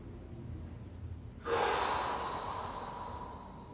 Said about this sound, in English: Try and breathe in again. Exhale and exhale.